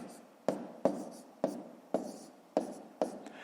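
A pen writes numbers by hand on paper for a column multiplication, producing six sharp taps and short scratches at uneven intervals, close and quiet, with no speech.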